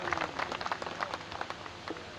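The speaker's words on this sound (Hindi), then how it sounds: "एक बार तालियां बजाकर स्वागत करो" Scattered, fairly faint hand claps from an audience at a community gathering welcome a speaker, with irregular individual claps rather than a full roar.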